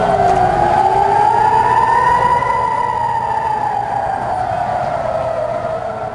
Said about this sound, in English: Air raid sirens heard yet again today in Tel Aviv